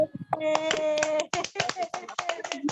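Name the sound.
children clapping hands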